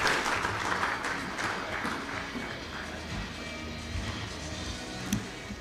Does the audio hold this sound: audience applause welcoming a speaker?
yes